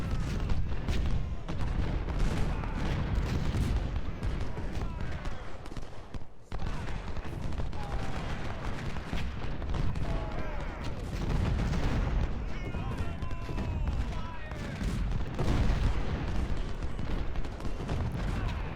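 Ultimate General: Civil War battle with dense, continuous cannon booms and rifle fire, a heavy rolling barrage with scattered sharp volleys throughout, loud and constant.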